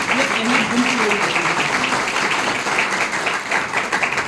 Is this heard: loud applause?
yes